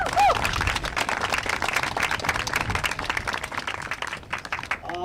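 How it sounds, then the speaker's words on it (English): A crowd at a high school softball senior night breaks into applause, a dense, lively clatter of many hands with a few cheers that holds strong before gradually thinning. "So that's a good round of applause for these seniors and these girls out here right now."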